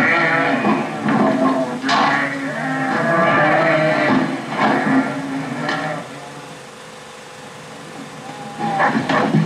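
A flock of sheep out with a shepherd gives off overlapping bleats and low calls, some near and some farther off, over a steady outdoor background.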